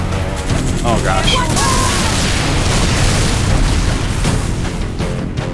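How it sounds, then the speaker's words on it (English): A loud, sustained explosion in the video game Halo 3: ODST rumbles and crackles continuously for several seconds, with booming blasts and scattered pops layered in the mix. "Was one spectacular explosion, though."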